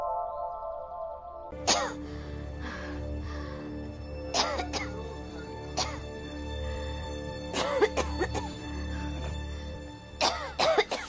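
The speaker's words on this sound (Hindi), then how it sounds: "खांस खांस के नींद खराब कर दी मेरी" A sick woman in a Hindi television drama coughs repeatedly in about four separate harsh bouts spread across the scene, loud and close, over a low background hum with a faint tone at the start.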